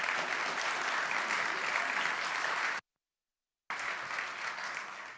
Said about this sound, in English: let's give a round of applause to everyone who's just presented